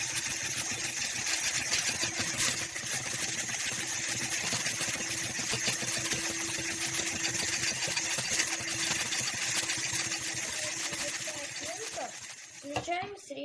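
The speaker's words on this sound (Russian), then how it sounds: "Берем миксер и сначала взбиваем на самой маленькой скорости" An electric hand mixer whisks egg whites at its lowest speed, giving a steady close motor whir that runs continuously for several seconds before stopping near the end.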